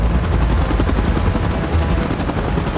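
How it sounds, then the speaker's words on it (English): Helicopter rotor chopping in the PUBG Mobile video game, a loud, steady, dense thrum that fills the whole stretch with no talk over it. "Chopper in position."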